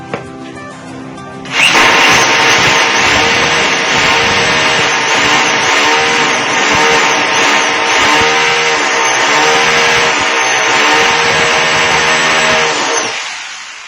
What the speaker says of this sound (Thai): เสร็จแล้วเราก็เจาะนะฮะเจาะสองมือนะครับ